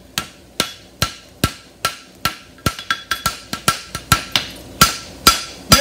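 Hammer blows flattening a welded steel European hind barshoe on an anvil, with loud ringing metallic strikes in a steady rhythm that briefly quickens into a faster flurry before settling again.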